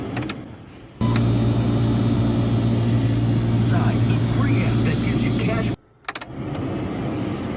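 A cleaned blower motor runs inside a 1997 Jeep TJ, a steady, fairly loud whooshing hum with a faint tonal whine that lasts about five seconds before cutting off, after which softer cabin sounds return.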